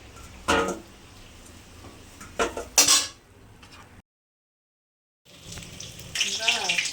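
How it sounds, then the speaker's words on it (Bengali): Lentil fritters going into hot oil, with frying crackle, clinks of a metal utensil against the pan and a brief silent gap before the sizzle resumes louder. "বড়াগুলো ভেজে নেব ভালো করে। এভাবে ভেজে নেবো সব।"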